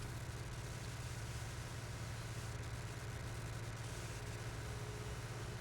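A tractor engine in Farming Simulator 19 runs at a steady low drone with a constant hum, fairly faint and alone with no talk.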